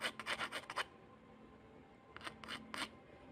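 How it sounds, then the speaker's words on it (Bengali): A rusty blender part scrubbed by hand at home, two bursts of quick rasping strokes, a rapid run of about six at the start and three more after a pause, close and fairly quiet. "মোর্চা ধরেছে। এই কারণে আমরা একটু ঘষে নেব।"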